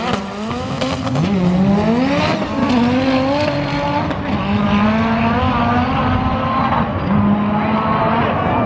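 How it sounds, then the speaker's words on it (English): Two turbocharged Honda cars launching down a drag strip, loud close engines revving and climbing through gears with a continuous roar for the whole stretch, no talking over it. "we've got two turbo Hondas. Will either one make it down the track?"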